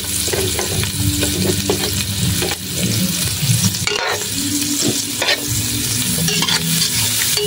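Steady loud sizzling of ginger and onion sautéing in hot oil for a beef ear dish, with spatula stirring and scraping against the pan throughout, close and continuous.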